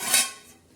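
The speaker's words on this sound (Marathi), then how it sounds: "आता आपण झाकण काढून बघूया आपली वांग्याची भाजी" A metal lid is lifted off a cooking pot of eggplant curry with a brief, bright metallic clink and scrape, close and moderately loud, fading into quiet kitchen background.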